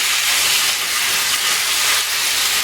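Beef stir-fries in oil in a hot non-stick pan, a loud, close, continuous sizzling hiss with no talking over it.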